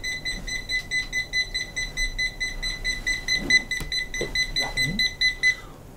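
Rapid, steady electronic beeping repeats in a fast pulsing pattern for several seconds, then stops, with faint rustling and low background noise underneath.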